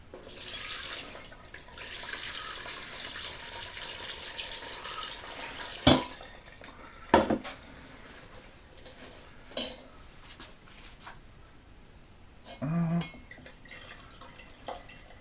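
Homemade turkey stock is poured in a home kitchen, a soft trickling liquid stream with occasional clinks of a pot and utensils, fairly quiet and close.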